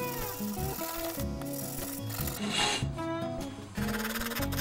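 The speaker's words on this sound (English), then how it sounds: "just go at it with some steel wool" Steel wool scrubbing rust from an old flea-market axe head by hand, a steady rasping rub of repeated strokes, close and fairly loud, running throughout with no talking.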